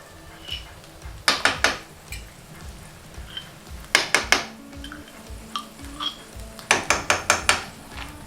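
Metal utensil repeatedly tapping and scraping a pan in a home kitchen while chopped bacon and apricot spread go in, clattering bursts of three to five quick knocks separated by quieter scraping.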